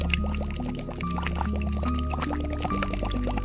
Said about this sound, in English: Air in the form of bubbles starts coming out of the bottle.